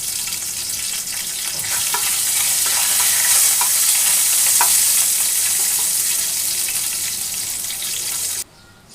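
Bay leaf torn in two, whole cumin and a dried chili sizzle steadily in hot oil, a loud continuous frying hiss with a few crackles and pops that cuts off abruptly near the end.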